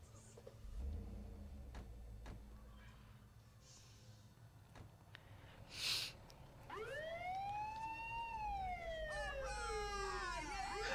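An ambulance siren in the video game Saints Row III starts after a stretch of quiet game ambience, its rising and falling wail moderately loud and continuing to the end.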